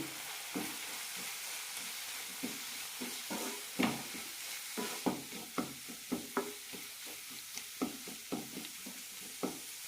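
Roasted coriander and turmeric powder fry in a pan while a spoon stirs them, giving a steady close sizzle broken by repeated scraping clicks, with no talk over it.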